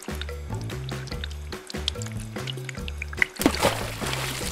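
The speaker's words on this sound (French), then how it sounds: "Et maintenant, on rince." Rinsing with water, soft squishy splashes and trickling under a repeating tune, with a brighter gush of water toward the end.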